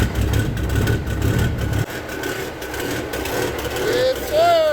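A Kenworth truck with new exhaust pipes idles in a low, heavy rumble that cuts out abruptly, leaving a quieter background before a rising whine climbs near the end, with voices talking over it.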